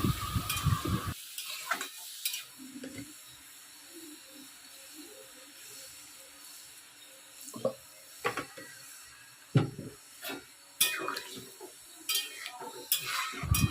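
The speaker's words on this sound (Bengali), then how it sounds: "আমার তরকারিটা অলরেডি ফুটে গেছে" A pan of vegetable curry with potatoes, poppy seed paste and water bubbles close by with a soft, steady hiss and sizzle, broken by scattered clicks and scrapes of stirring.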